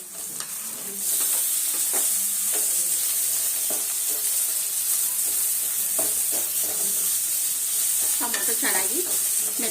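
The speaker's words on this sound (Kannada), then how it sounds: "ಈರುಳ್ಳಿ ಚೆನ್ನಾಗಿ ಫ್ರೈ ಆಗಿದೆ ಈಗ ಒಂದು ಟೊಮೊಟೊ ಸೇರಿಸ್ತಾ ಇದ್ದೀನಿ" Chopped tomato is stirred into onions frying in oil in a home pan. A bright, steady sizzle and hiss runs throughout, with close scraping stir strokes over it and no speech.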